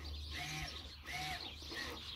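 A faint, steady electric whirring from an electronic parking brake caliper motor retracting, rising and falling in pitch in two sweeps with a slight squeal, no voices.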